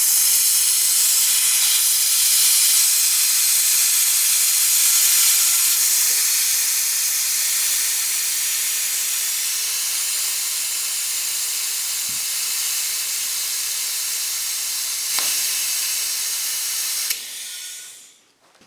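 A vacuum pump hisses steadily while bleeding the brakes on a Honda TRX 350 FE ATV, loud and close. The broad airy rush fades slightly over time, and a few faint clicks come through before it cuts off abruptly.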